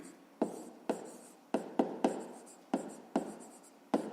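Handwriting on paper during a fifth-grade math exercise: about nine short, close scratching pen strokes, each sharp at the start and fading quickly, separated by quiet gaps.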